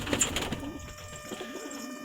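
Pigeons in a full coop coo softly, low rolling murmurs that are faint and continuous over a brief stretch, with no talking.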